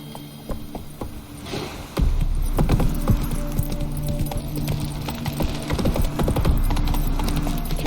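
Horse hooves trotting in The Witcher 3, a steady clip-clop rhythm that grows louder and busier after the first couple of seconds, heard alone over a low ambient hum.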